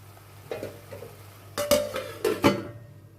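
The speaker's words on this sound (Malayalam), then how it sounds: "ഒന്ന് തുറന്ന് നോക്കി ഇളക്കി കൊടുക്കണേ" A spoon scrapes and clinks against a covered pan while tomatoes are stirred for kadai paneer. A few soft knocks come first, then several sharper metallic clatters close by, with the lid's clank near the end and a faint low hum underneath.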